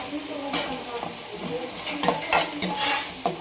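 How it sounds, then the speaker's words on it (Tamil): Ginger garlic paste frying in a pan on a home kitchen stove, a soft continuous sizzle with several short bursts of scraping as a spoon stirs it, close and clear with no talking. "இஞ்சி பூண்டு பேஸ்ட் கொஞ்சமாக போட்டாச்சு இதையும் நல்லா வணக்கலாம்"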